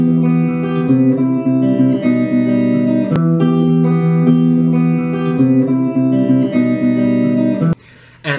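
Electric guitar plays the intro to a song, a steady run of sustained, ringing picked notes, clear and close, with a brief pause near the end.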